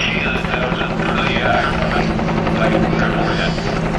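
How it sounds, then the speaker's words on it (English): Helicopter at an air show arriving to lift a car, a loud close rotor drone with steady buzzing throb filling the whole stretch, with people talking faintly underneath. "I think we've got our helicopter"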